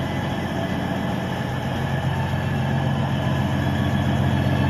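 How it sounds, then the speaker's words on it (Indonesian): A feeder train arriving at Bandung railway station gives off a steady low diesel rumble and idling drone, heard close and constant with no voices. "saat ini kereta feeder barusan tiba di stasiun kereta api Bandung"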